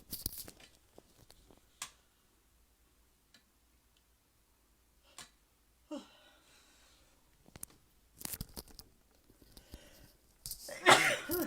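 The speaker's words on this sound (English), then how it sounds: "Excuse me, I'm going to sneeze." A single sneeze bursts out near the end of a quiet stretch, following a few scattered clicks and soft breaths.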